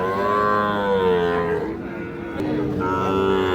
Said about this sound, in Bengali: শাহিওয়াল সার বাছুর দেখছি আমরা বাচ্চাটা